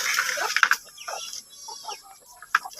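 Rhode Island Red hens cluck in short, uneven bursts nearby, with a few sharper squawks breaking through.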